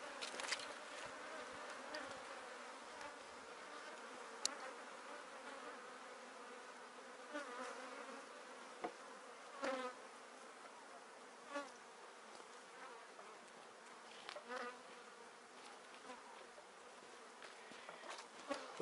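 Honey bees buzz steadily around an open beehive during a super-adding job, a soft continuous drone with occasional closer passes by individual bees, no voices.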